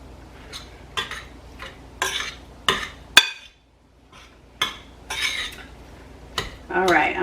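Utensils clink and scrape against a bowl while meatloaf ingredients are mixed by hand, a series of sharp close knocks and clatters with a short quiet pause midway.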